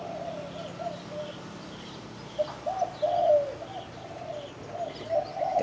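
A spotted dove in Phú Yên, Vietnam, coos in a series of soft, mellow notes, moderately close, over a quiet outdoor background with no talking.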